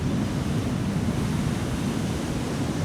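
Large ocean waves crash and roar continuously in strong wind at flooded Malama Flats, Hawaii, a loud unbroken wash of surf mixed with rumbling wind buffeting the microphone, with no voices.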